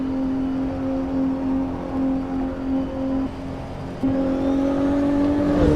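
A car engine in Assetto Corsa hums steadily, its pitch dipping and rising as it revs, then jumps louder near the end.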